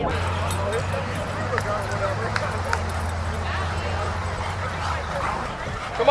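Dogs bark and yip at a newly opened outdoor dog park, short sharp barks scattered over a constant crowd murmur with people talking nearby.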